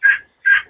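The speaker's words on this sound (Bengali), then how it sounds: "এই যে আমাদের হাঁসের বাচ্চা" Ducklings calling at close range: two short, bright peeping calls separated by a brief pause, loud and clear with no voices present.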